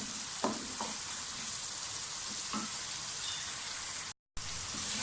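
Tomatoes frying in ghee for aloo methi sabzi, a soft steady sizzle with a few light stirring scrapes, close and fairly quiet, with no voice over it.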